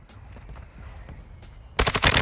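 Gunfire in the video game Warzone, faint scattered distant shots at first, then a sudden loud close burst of rapid automatic fire near the end.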